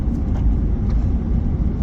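A car passing on a nearby road, a steady loud low rumble of tyres and engine that stays close for the whole moment with no talking.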